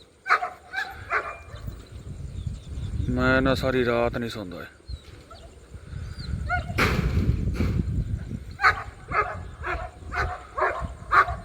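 A German shepherd barks repeatedly in short, sharp bursts nearby, scattered across the stretch, with someone talking in between.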